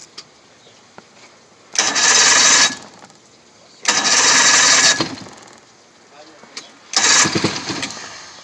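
An 85 hp Johnson outboard motor is cranked in three separate attempts. Each burst of loud, close mechanical churning lasts about a second before stopping, with quieter gaps in between.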